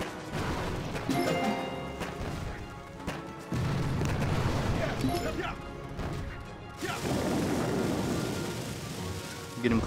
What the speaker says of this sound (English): I'm just gonna keep pummeling the rest of this stuff with artillery shells